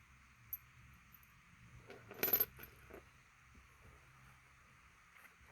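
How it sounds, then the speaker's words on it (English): Emergency keys for a Vanzbon 5-in-1 fingerprint door lock jingle briefly as they are handled, a short close metallic clink burst standing out against quiet background noise. "And then we have a set of emergency keys."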